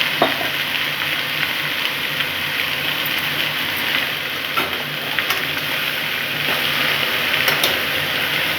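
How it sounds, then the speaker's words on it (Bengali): Chopped bottle gourd sizzles loudly and steadily in hot oil with a scorched tempering of spices and chilli. A spatula stirs through it now and then, giving occasional scrapes and taps over the continuous close frying hiss. "দিয়ে আমি নাড়াচাড়া করে দিচ্ছি"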